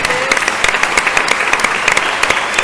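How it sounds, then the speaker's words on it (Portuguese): A church congregation claps loudly and briskly for a short burst, many hands mixing into a dense applause with distinct sharp claps on top. "Pode aplaudir a Jesus porque Ele é bom."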